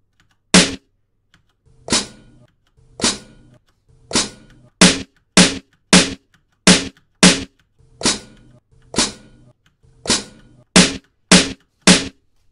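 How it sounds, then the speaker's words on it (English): Sharp percussive hits from keyboard-triggered snare drum and cymbal sounds fire one after another in an uneven rhythm, crisp drum-like strikes with splashy, cymbal-like tails, loud and close with short silences between. "Pressing the A key plays a snare drum, and pressing the S key plays a cymbal."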